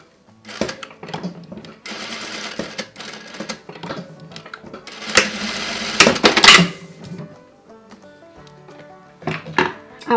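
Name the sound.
sewing machine stitching a seam on a wedding veil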